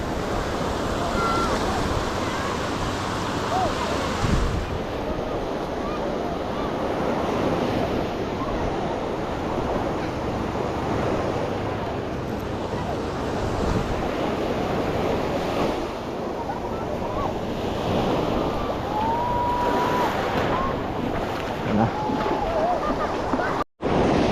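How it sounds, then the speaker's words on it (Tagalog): Strong ocean waves at sea wash and roar continuously around a boat, heard up close with gusting wind noise on the microphone and brief voices underneath. "Grabe ang alon."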